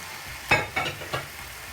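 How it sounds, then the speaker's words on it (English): Chicken sizzles in a hot pan during stir-frying, with three short scraping stirs breaking through a quiet steady frying hiss. "Now it's time to add the chicken. back into the pan with the juices."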